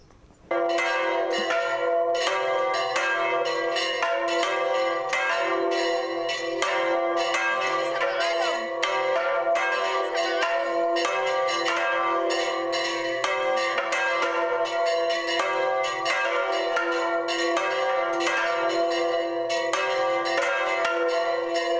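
Church bells of Torrecilla del Monte, swung full circle, peal continuously in a rich, overlapping clangor, many strikes ringing out in a steady swinging rhythm for a long stretch.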